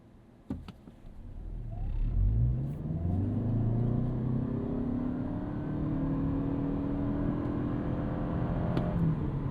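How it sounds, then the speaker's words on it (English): A 2026 Toyota Camry SE pulls away hard from a standstill, its engine note swelling and climbing steadily through the revs, loud and close, with a continuous rising drone and no voices. "So let's spoil the fuel economy one last time, and we'll get this thing off the line."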